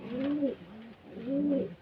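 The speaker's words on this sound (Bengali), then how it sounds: "এখন চলে এসেছি পায়রার ঘরে দেখুন পায়রার বাচ্চা বড় হয়ে গেছে আবার ডিমে বসে আছে" Pigeons in a pigeon loft with nesting birds: two clear, close, throaty coos with a pause between them, heard alone.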